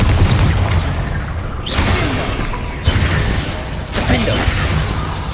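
Confringo blasting spells going off in Hogwarts Legacy, a rapid series of close, loud bursts and crashing impacts with whooshing debris over a dense battle din.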